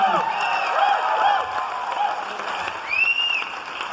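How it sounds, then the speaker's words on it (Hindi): A crowd at a business success seminar breaks into loud applause, dense clapping mixed with cheering and a couple of rising whistles, continuing steadily throughout. "एक बार उनके लिए तालियां।"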